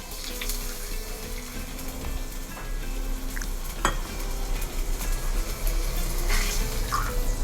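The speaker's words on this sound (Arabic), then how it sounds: "شوحنا مكعبين زبده، وهننزل بالقطع كده" Two cubes of butter sizzle in a pan with a steady low crackle, joined by faint stirring and scraping while the butter is readied for boiled trotter pieces.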